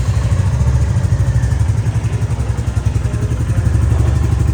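A Royal Enfield Meteor 350 motorcycle engine runs steadily after a self-start, a close, even single-cylinder thump with a slight mechanical clatter and no talking.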